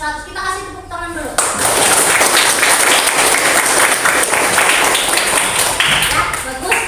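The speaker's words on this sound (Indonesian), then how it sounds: "Kita kasih tepuk tangan dulu." Students in a classroom break into loud, sustained clapping after a brief voice at the start, the dense applause filling the rest of the moment.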